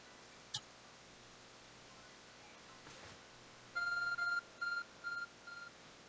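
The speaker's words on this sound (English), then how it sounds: "Your arc phone is beeping." Arc Phone in Pokémon Legends Arceus gives a series of bright electronic beeps, four or five short tones in quick succession, clear and alone over a quiet game backdrop after a faint earlier blip.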